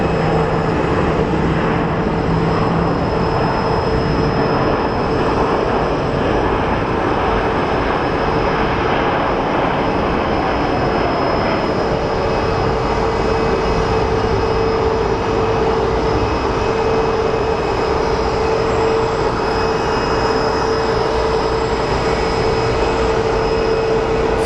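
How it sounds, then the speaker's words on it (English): An airplane landing at Sky Harbor Airport, a loud, steady engine roar with a sustained whine, distant and unbroken throughout with no talk. "That was a beautiful landing"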